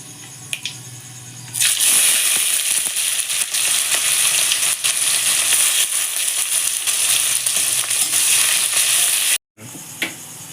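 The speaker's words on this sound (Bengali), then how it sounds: "এবার আমি পেঁয়াজ কুচি দিয়ে দেবো তেলে" Chopped onions hit hot oil tempered with dried chillies and five-spice seeds, setting off a loud, steady, close sizzle that runs nearly continuously after a quieter start, broken by one brief silence.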